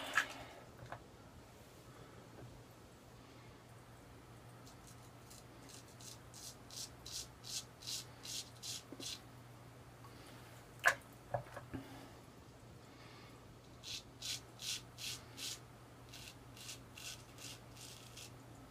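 A full hollow ground straight razor scraping stubble in a shave with and across the grain, heard as faint, quick rhythmic rasping strokes in short runs separated by pauses, close and quiet.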